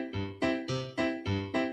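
A polka oom-pah bass pattern plays on a keyboard, with low bass notes alternating with brighter chords in a steady bouncing rhythm of about six clear beats, close and alone.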